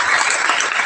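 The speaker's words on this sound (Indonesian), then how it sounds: "Coba tepuk tangan anak muda" A young audience claps together in a dense, steady burst of applause that fills the whole moment without pause.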